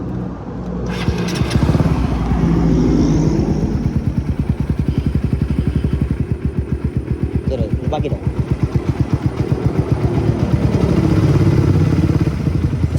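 A second-hand motorcycle engine runs at idle close by, a rapid steady chugging pulse that carries on throughout, with people talking briefly over it.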